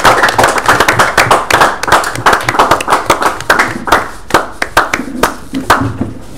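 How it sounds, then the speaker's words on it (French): Studio audience clapping for a contestant just eliminated from a televised competition, a dense, steady burst of many hands applauding together, loud and close, that thins slightly toward the end. "Est-ce qu'on peut l'applaudir quand même? Applaudissons notre candidat."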